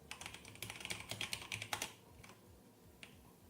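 Rapid typing on a computer keyboard, a close burst of clattering keystrokes that slows and stops, followed by a single late tap.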